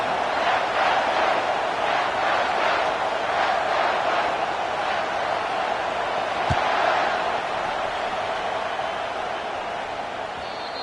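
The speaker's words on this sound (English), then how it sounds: "They challenge this crowd to bring the energy, and I'd say they're doing that." A stadium crowd at a Michigan Wolverines college football game roars through the opening kickoff, a loud, sustained wash of cheering and rhythmic chanting with one sharp thump partway through, fading slightly toward the end.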